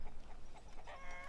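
Chickens cluck at a farm in the strategy game Stronghold Legends Remastered, a short burst of soft, low-level fowl calls over a steady ambient background with no talking.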